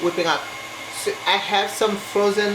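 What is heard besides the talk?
No everyday noise stands out behind the speech.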